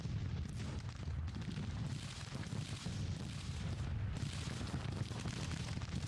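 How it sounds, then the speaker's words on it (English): Artillery fire and shell impacts from a Civil War battle in the video game Grand Tactician: The Civil War form a continuous, heavy low rumble of blended booms, steady and unbroken throughout. "We are being bombarded by enemy artillery"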